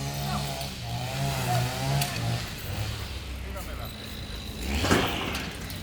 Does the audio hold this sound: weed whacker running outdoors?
yes